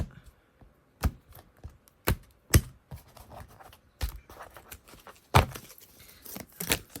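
Tarot cards being shuffled and cut produce irregular dry slaps, riffles and soft rustles scattered across a quiet room, with a few sharper snaps standing out and no talking.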